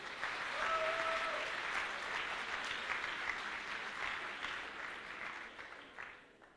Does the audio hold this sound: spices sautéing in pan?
no